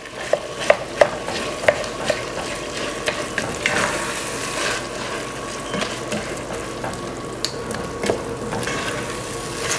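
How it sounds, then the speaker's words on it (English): Ground beef sizzles in a hot pan with garlic while a utensil breaks it up, a steady frying hiss punctuated by sharp scraping and tapping clicks, close and moderately loud, with no speech. "I'm going to add my ground beef. I'm just going to break it up."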